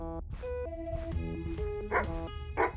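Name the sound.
dogs barking in a video game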